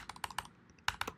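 Typing on a computer keyboard, quiet clustered keystrokes in quick bursts with a short pause midway, close and soft.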